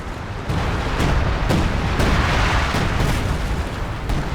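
105 artillery fire lands in a Company of Heroes 2 battle: loud, dense rumbling booms with repeated impacts roughly every half second that run steadily throughout, with no talk.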